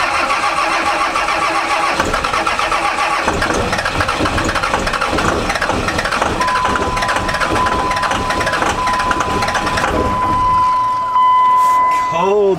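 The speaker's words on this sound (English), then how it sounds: "I'm going to give it a good old cold crank here" A first-generation truck's cold engine cranks over on a new starter on a 28-degree morning, a steady rhythmic churning that catches and settles into a running idle, loud and close, with a voice speaking over it.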